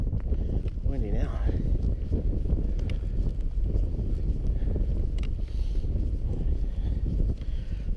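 Wind buffets the microphone with low rumbling gusts throughout while a person talks outdoors on a walk to Debar Pond Lodge.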